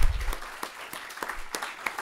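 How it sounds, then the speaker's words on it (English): A university postdoc event audience applauding the postdoc board: dense clapping from many hands, steady and fairly close, lasting the whole moment without talking. "Let's give them a round of applause."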